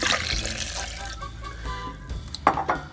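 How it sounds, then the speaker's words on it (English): Tap water runs into a vessel while Mexican rice is being made, a close splashing stream that fades and stops, followed by a few small clinks of a pot near the end. "I'm gonna get some water. I'm gonna add 1 cup of water."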